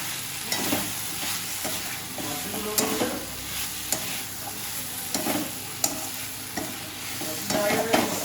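Prawns tossed into pointed gourd frying in a pan, with a steady sizzle and repeated scraping stir strokes close up, no voices.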